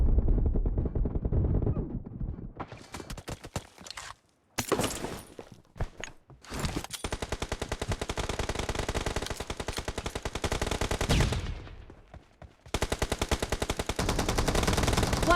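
Rapid video-game gunfire from an M1014 shotgun, loud and sustained in dense bursts with brief pauses between volleys.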